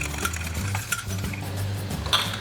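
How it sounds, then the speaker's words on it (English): A fork stirs cooked pasta for carbonara in a pan, giving soft scraping clinks of metal against cookware in a steady rhythm over a low background hum. "And now we can just mix it with the fork."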